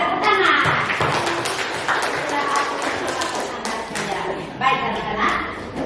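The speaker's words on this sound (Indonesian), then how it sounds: "Ya, kita tepuk tangan." A class of children claps their hands together in a classroom, dense and fairly loud, mixed with busy chatter and the thumps of young pupils around them.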